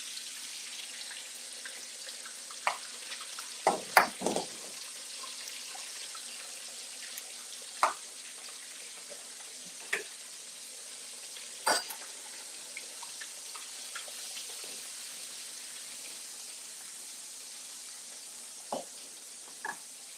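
Eggs frying in oil and butter in a pan, a continuous soft hiss and sizzle with scattered sharper pops and clinks throughout, close and without talk.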